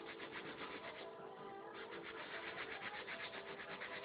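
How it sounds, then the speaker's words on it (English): A brush scrubs steadily and softly across a retro sneaker, a continuous faint rubbing rasp with a quick repeating stroke rhythm and no voices. "still scrubbing down the shoe"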